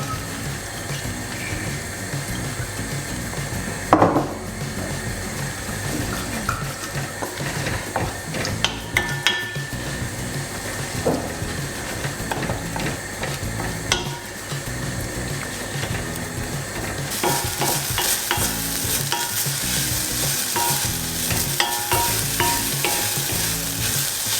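Onions browning in a pan for a Mexican beef casserole, with a steady close sizzle and occasional stirring scrapes throughout, growing brighter and louder toward the end.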